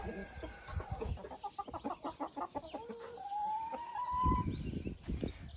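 Several silkie and araucana hens cluck and murmur nearby in a quick rhythmic series, with one drawn-out rising call, close and moderately loud.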